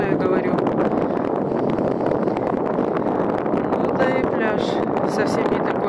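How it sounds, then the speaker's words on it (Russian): Strong wind blows across a beach and buffets the microphone with loud, continuous roaring gusts, while a person talks over it. "Ветруган, конечно, сильный."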